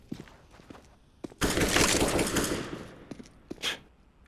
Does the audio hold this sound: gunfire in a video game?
yes